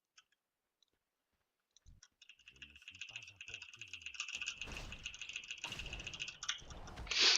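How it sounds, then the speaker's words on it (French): Computer keyboard keys pressed rapidly while playing World of Warcraft, a dense run of clicks and rattles that builds from faint taps into steady, fairly close clatter, with a person talking over part of it. "désolé si vous entendez mon clavier"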